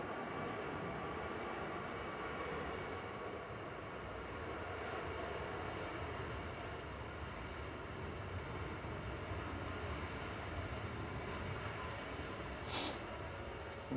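A Ryanair Boeing 737 MAX 8-200 airliner bound for Milan at Manchester Airport produces a faint, steady distant jet rumble that holds evenly throughout, with no talking over it.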